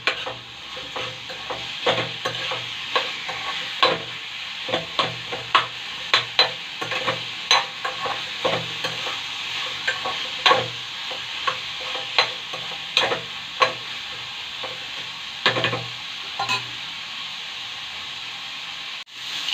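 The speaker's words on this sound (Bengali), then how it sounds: "এগুলো একটু ভাজা ভাজা হোক।" Chutney ingredients with chili powder fry in a pan under a constant sizzle, while a utensil stirs and scrapes at a brisk, uneven pace throughout.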